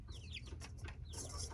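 Backyard chickens cluck and chirp in a coop during cleaning, several short calls spread over a steady low hum, moderately close.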